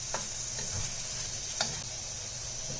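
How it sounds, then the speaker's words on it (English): Potatoes simmer in a tomato-based rohu fish curry gravy with panch phoron, giving a faint steady sizzle and bubble with a few soft stirring clicks. "I'm going to add the potato into it. We'll now cook the potato in this for 2-3 minutes."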